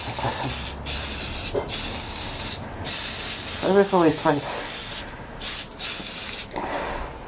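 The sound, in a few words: spray painting a model bodyshell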